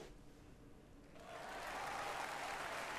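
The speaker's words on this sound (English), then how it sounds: "There was a huge wave of applause." Crowd applause swells up as a sound effect in the Steins;Gate 0 visual novel, rising from a quiet murmur into a broad, steady wash of clapping that holds loud to the end.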